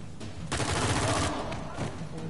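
Enemy gunfire in the Uncharted 4 video game, a dense volley of shots rattling on steadily through most of the moment, with a voice faintly underneath.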